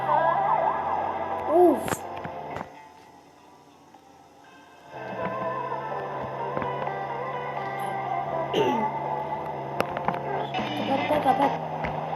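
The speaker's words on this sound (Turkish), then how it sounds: "Polis peşimizde." A police siren in a knockoff GTA-style video game wails in rising and falling tones, drops out briefly, then returns, with engine noise and occasional talking mixed in.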